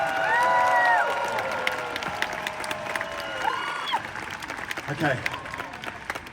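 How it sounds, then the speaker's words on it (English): Crowd applause and cheering for singers at an opening-night concert at the Hollywood Bowl, a broad outdoor wash of clapping with a loud start that gradually thins, while a sung or sustained tone and a brief spoken word sit over it. "Would you please give a massive round of applause to my singers?"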